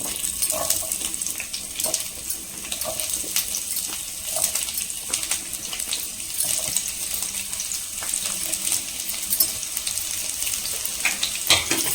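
Chopped onions with capsicum frying in hot oil for a vegetable feast dish, a steady close sizzle with scattered sharp clinks and stirring taps throughout, no talk.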